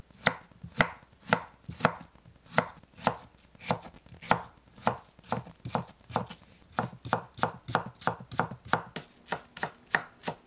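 A knife julienning Korean melon (chamoe) on a cutting board makes a fast, even run of crisp chops, about two per second, close and clean with no talking.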